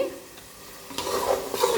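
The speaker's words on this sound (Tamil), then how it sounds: "இப்போது சிக்கன் நல்லா வதங்கியாச்சு." Chicken sizzles and is stirred in a hot pan while being sautéed for chicken biryani, with soft scraping and a louder burst of frying in the second half.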